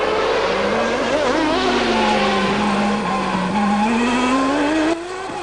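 A 1994 Formula 1 race car at the Monaco Grand Prix runs past the harbour, its high-revving engine screaming loud and close, the pitch falling and rising through the gears before it cuts off abruptly.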